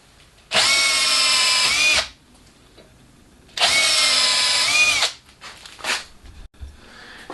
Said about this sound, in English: drill out the track holes to 4 millimeters